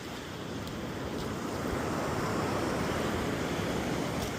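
Ocean surf washing in and out at Coronado Beach near Coronado Bay, a steady broadband rush of waves that fills the whole clip at close range, with some wind noise on the microphone and no talking.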